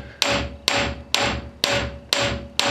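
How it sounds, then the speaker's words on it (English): A hammer strikes a steel front axle part on a 1994 Toyota 4Runner during teardown, six sharp metallic blows at an even, brisk rhythm, loud and close, each ringing briefly with no talk. "when you're hammering on this, do not hammer where the races sit"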